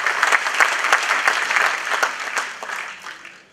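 A hall audience applauds a singer with a dense, close burst of clapping that holds steady, then gradually thins and fades out.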